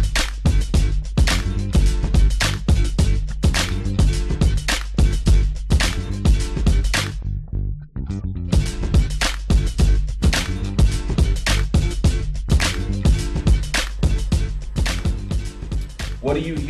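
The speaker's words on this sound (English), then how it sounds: "You have live bass, you have live drums," A music track plays loud and continuous with a punchy live-sounding bass line, driving drums and horns, its steady rhythmic beat broken by a brief drop near the middle.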